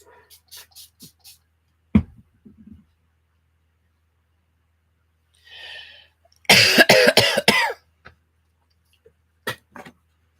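A person coughs in a short, sharp burst, then again in a cluster of rough, loud coughs indoors during a crafting session, with small handling clicks and taps around them.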